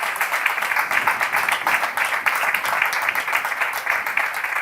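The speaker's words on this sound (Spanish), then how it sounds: "Aplaudiment." Audience clapping after a talk in a lecture hall, dense, fairly close applause with a fast, even patter that keeps up without fading, and no speech.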